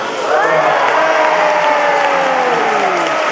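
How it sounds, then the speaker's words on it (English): Guests at a second birthday party cheer and clap together as a girl attempts to touch a ball, with rising and falling voices ringing out over a busy crowd for a few seconds. "can you please give her a big round of applause?"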